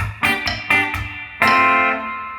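Electric guitar plays bar 19 of a song, a few clipped chord stabs with a dead note before a longer ringing chord, heard alone and close.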